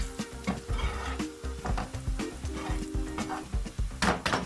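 Red chili dropped into hot oil with browned garlic and onion sizzles and crackles loudly and continuously, with stirring scrapes and pan clatter mixed in.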